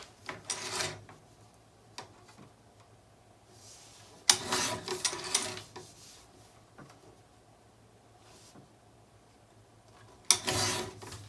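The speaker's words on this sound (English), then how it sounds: "I'm going to trim this down." Patterned paper being trimmed down for a Stamperia Imagine mini album, heard as three separate broad swishing slides of a trimmer blade, each a second or less, spaced apart over a quiet room hum with no talk.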